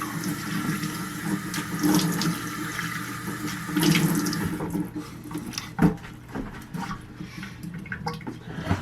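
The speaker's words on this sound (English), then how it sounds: "I'm going to do a little cold water splash" Cold water running from a bathroom sink tap and splashed onto the face after a straight-razor shave, a steady close rush with sharper splashes and drips toward the end.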